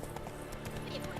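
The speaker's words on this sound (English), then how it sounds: "Spooking my horse." Hooves of the horse Roach clip-clop in The Witcher 3 as it is spooked, steady hoofbeats under game music and a voice speaking over them.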